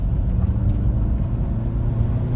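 A Volkswagen Passat B7 engine hums low and steady from inside the cabin, a smooth continuous drone as the car picks up speed.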